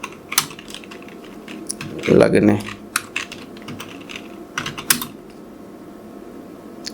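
Quick keystrokes on a computer keyboard come in irregular bursts of clicks, fairly close, with a short stretch of Hindi speech partway through.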